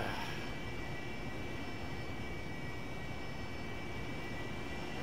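In the DCS flight simulator game, an aircraft taking off gives a constant, loud, broadband engine roar that holds steady with no letup from start to finish.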